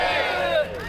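A crowd shouts "manse" in unison during a torch-lit street march reenactment in downtown Jeonju, flags in hand; one loud, sustained massed cry fills the brief moment before trailing off.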